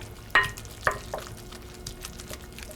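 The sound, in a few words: mixing smoked salmon ravioli filling with egg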